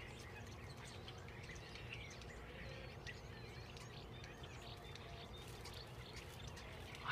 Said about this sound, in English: I have to be quiet because the birds are chirping.